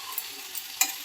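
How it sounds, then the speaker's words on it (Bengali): Ash gourd curry with fish being stirred in a pan: a brief soft sizzle with a couple of light spoon scrapes and clicks against the pan. "আমি এখন নেড়ে নিচ্ছি"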